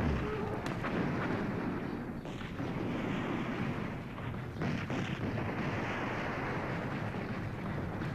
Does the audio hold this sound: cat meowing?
no